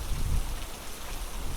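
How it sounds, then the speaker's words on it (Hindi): Heavy rain falls steadily at Amboli, a dense unbroken hiss of drops close by with a few low thuds, no voices. "टोटल आज फुल डे बारिश गिरी है ना"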